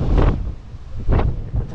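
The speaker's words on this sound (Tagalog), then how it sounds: "ang lakas ng hangin dito mga kapatid, normal pa lang daw na hangin na yan" Strong wind gusts on a beach at Daku Island, Siargao buffet the microphone in loud low rumbles, rising and falling in bursts.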